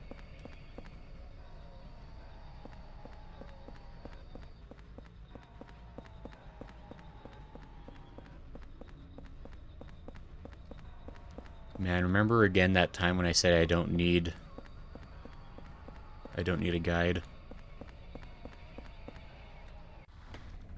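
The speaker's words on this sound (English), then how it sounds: "You just hear Henry's footsteps as Lala." Footsteps of Henry in Silent Hill 4, two loud bursts of rapid, hollow, clip-clop-like steps interrupting a low ambient hum, with someone talking over the quieter stretches.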